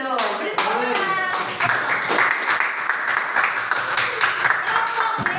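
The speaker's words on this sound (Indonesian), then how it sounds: "Beri tepuk tangan." Classroom students clap for a correct answer during a quiz, a scattered burst of applause mixed with lively voices and chatter from the group throughout.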